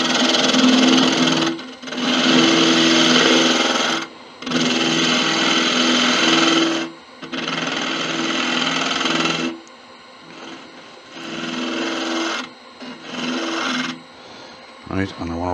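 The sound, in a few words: sanding Malaysian acacia sapwood napkin ring on lathe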